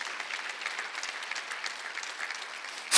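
Congregation applauding during a Sunday church service, a steady even clatter of many hands throughout, followed by a louder swell at the very end.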